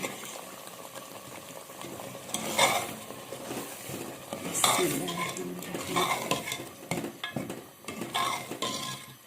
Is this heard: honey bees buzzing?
no